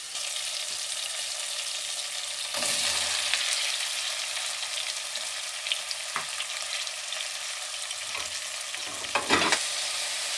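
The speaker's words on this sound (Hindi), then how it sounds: "अब इन्हें अच्छी तरह भूनना है" Bottle gourd and mutton fry in a pot with a steady loud sizzle, while a spoon scrapes and stirs in occasional clicks and knocks against the metal.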